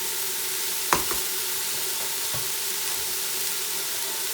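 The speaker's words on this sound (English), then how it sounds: "Give this a good stir." Minced meat browns in a pot for bolognese, giving a continuous sizzling hiss with a sharp spoon knock against the pot near the start and a softer scrape later, all fairly close with no voices.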